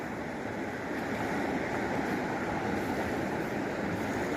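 The flooded Gamka river rushes past as a loud, continuous roar of flowing water, steady throughout with no talk.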